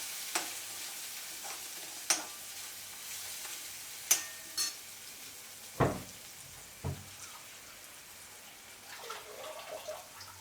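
Spoon scraping and knocking against a pan in a few sharp strokes with quiet gaps while stirring wheat-flour khichu, then a soft sizzle toward the end.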